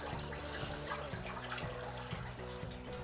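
Water sprays through the holes of a sparge plate in separate streams, producing a soft, steady trickling and splashing with faint tonal ringing, quiet and close, without speech.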